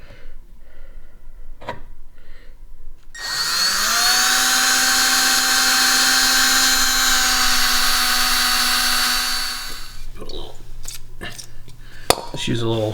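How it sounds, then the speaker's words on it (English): Power drill boring out a front bolt on a Ford Mustang Supercoupe, a steady high whine running about seven seconds at close range, preceded and followed by quieter shop handling noises and brief clicks. "We're making the initial drill through this front bolt here."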